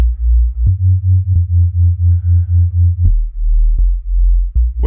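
A deep synth sub bass tone for drum and bass pulses in a steady rhythm of repeated notes, with faint higher harmonic overtones above the low fundamental and a few clicks between notes.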